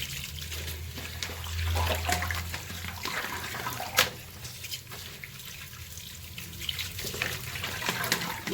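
Tap water runs into a sink while fenugreek leaves are washed by hand, a continuous close splashing and trickling with occasional drips and one sharper splash partway through, with no talking.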